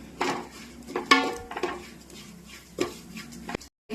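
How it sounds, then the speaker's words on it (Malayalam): Curry leaves, ginger, garlic and onion frying in a pan for a tuna coconut fish curry, heard as a low sizzle under repeated scraping and clattering of a spatula against the pan. "കറിവേപ്പില, ഇഞ്ചി, വെളുത്തുള്ളി ഇതെല്ലാം ഉള്ളി ഇട്ടൊന്ന് മൂപ്പിച്ചെടുക്കണം."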